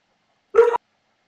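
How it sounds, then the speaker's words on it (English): A dog gives a single short, loud bark, close up, against complete silence before and after. "The dog, it barks."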